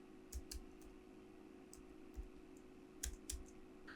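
Keystrokes on a computer keyboard while entering text, in short bursts of a few soft clicks spaced across the stretch, close and quiet over a steady low hum with no talking.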